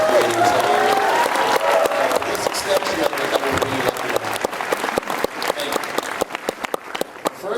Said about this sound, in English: big round of applause to Liz Berger and everybody on down